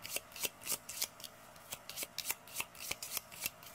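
Tarot cards being shuffled by hand, a quiet, close series of quick riffling flicks repeating in a steady rhythm, with no talking.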